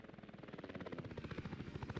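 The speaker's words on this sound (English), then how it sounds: "Oh no, the helicopters are getting in here." Helicopters in the video game Workers & Resources: Soviet Republic, a steady fast rotor thump beating evenly throughout, faint and continuous with no talk.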